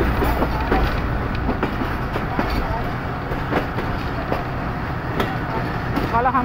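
The Jaffar Express rolls along the rails between Rawalpindi and Wazirabad, a steady loud rumble with regular clicking wheel beats and occasional sharper clacks throughout.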